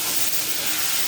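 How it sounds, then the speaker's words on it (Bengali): Water boiling hard in a cooking pot gives off a steady, dense hiss and bubbling roar, close and unbroken, with no voices. "এই দেখো জলটা ফুটছে"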